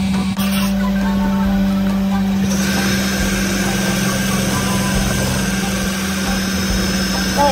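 A power tool whirs steadily at close range, with a brief higher-pitched burst near the start, then a constant buzzing hum.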